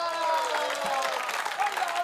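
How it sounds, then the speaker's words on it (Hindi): An audience at a Hindi comic poetry gathering applauds, a steady wash of clapping that continues under a voice that stays prominent throughout. "एक बार मिलके ताली बजा दो"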